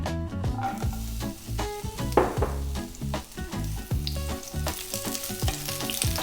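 Onion rings frying in a small amount of oil in a pan, a steady close crackling sizzle with scattered pops throughout.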